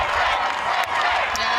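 Football crowd at a women's Super League match between West Ham United and Manchester City, a dense roar of shouting and cheering fans, loud and continuous, with a commentator's voice audible over it.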